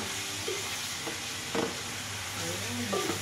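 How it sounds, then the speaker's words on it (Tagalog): Onions and other ingredients sauté in a hot pan with a continuous loud sizzle, broken by a few brief scrapes of stirring. "Yan, igisa ko muna guys bago ko pakuluan."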